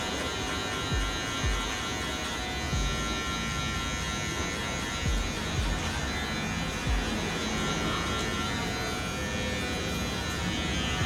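An electric hair clipper fitted with a number 1 guard cuts hair in a fade, buzzing steadily and fairly quietly close by, with short strokes of contact through the hum and no talking.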